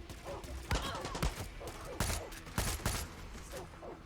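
Gunfire in the Far Cry 6 video game, with several sharp distant shots popping in an irregular burst over a low ambient background, fairly faint.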